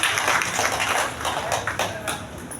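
Audience at a commemorative stage event claps steadily to welcome guests, a dense crowd applause that stays fairly loud and even throughout, with no talk over it.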